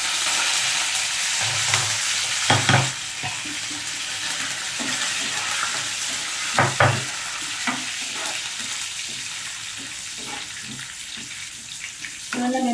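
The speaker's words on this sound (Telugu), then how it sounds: "మళ్ళీ మెంతులు ఆవాలు బాగా వేగాలండి" Fenugreek and mustard seeds with curry leaves fry in hot oil, giving a steady close sizzle broken by a few louder stirring scrapes and clatters in the pan.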